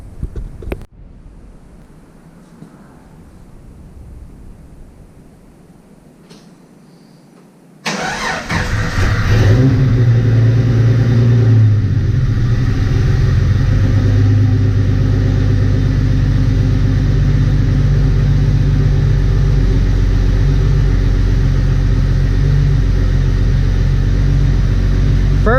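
A Jeep 4.0 engine swapped into a Scout starts abruptly after a quiet stretch of faint shop noise, then runs loudly and steadily at close range with a brief rev before settling into a rough, continuous idle.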